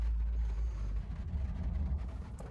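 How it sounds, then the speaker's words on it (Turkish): Renault Kangoo van engine started with a newly coded key: a quiet, low, steady engine rumble with slight fluctuations, heard alone and at some distance. "Şimdi aracı çalıştıralım. Yaptığımız yeni anahtarla."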